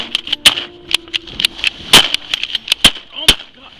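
Sharp, loud shotgun blasts crack out during a duck hunt in Oregon, several separate reports spread irregularly across a few seconds, close by, with brief voices between them.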